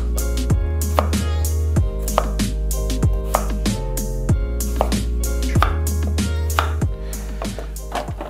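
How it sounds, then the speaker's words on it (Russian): Knife chopping peeled potatoes into wedges on a board, a steady series of sharp, close cuts roughly every half second, each with a brief thud, over a faint constant background hum. "Нарезаем картошку дольками."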